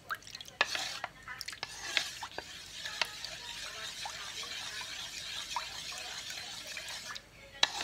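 Singapore flour and tapioca starch being whisked into water in a kitchen, with scattered clicks and taps of the utensil against the bowl over a steady watery hiss, close and moderately quiet.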